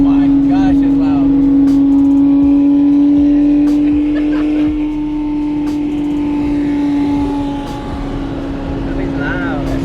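A loud car engine at a cars and coffee meet with GTRs and a Lamborghini Aventador SV holds a strong steady drone that eases off partway, with people talking over it.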